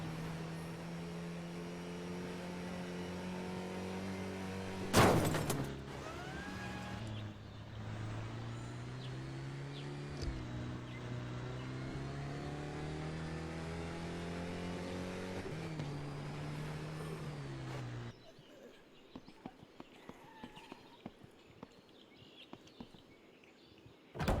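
In-game car engine from the zombie survival game Humanitz, a steady droning motor that shifts pitch as it accelerates and revs, with a sharp impact partway through, then cutting to quieter ambience with faint ticks.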